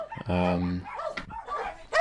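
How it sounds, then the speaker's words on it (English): Dogs evacuated from the Ukrainian frontlines bark and yip close by, one drawn-out bark followed by shorter yelps, all mixed with people talking. "we had a bunch of dogs"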